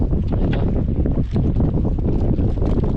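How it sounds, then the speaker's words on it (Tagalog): Strong wind roars and buffets steadily, loud and close, with a constant rushing noise and no pauses. "Malakas ang hangin mga idol, kaya dito lang tayo sa tabi-tabi lang."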